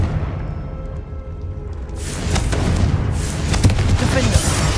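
Confringo blasting spell from Hogwarts Legacy bursts into a loud, broadband roar that swells about halfway through and holds, with sharp cracks and booms layered over the rumble.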